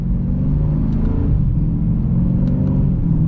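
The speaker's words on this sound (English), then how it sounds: "this will be kind of like our minor acceleration" A 2021 Dodge Challenger Scat Pack Shaker muscle car pulls away at partial throttle, its engine a loud, steady low rumble with smooth rising drone and no voices.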